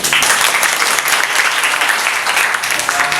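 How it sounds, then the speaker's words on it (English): Loud, dense clapping from a class audience at a school debate program, a continuous burst of many hands close to the microphone lasting a few seconds. "may I ask everybody to please clap their hand."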